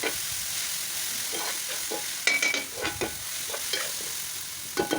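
Chopped ginger, green chili and garlic sautéing in a pan, a steady close sizzle with intermittent scraping stirs, no voices.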